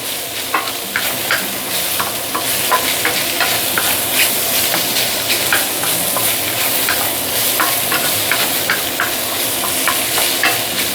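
Carrot pieces stir-fried in flavored oil for imitation shark fin soup: a steady, close sizzle broken by repeated scraping stirs of the spatula throughout, with no voices.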